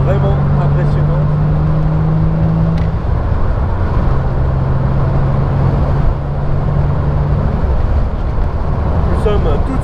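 A Morgan Roadster V6 accelerates, its engine a loud, close, continuous roar with a steady drone and rising tonal hum throughout.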